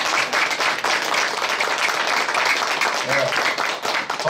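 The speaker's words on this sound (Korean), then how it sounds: "박수 한번 쳐줘." Audience at a Buddhist dharma talk at a temple claps together, a steady burst of dense clapping throughout, moderately loud and close, with some voices mixed in.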